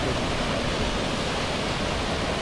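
A steady, dense roar of rushing water fills everything, loud and unbroken, like standing close to a waterfall, at Athirappilly Falls, Kerala.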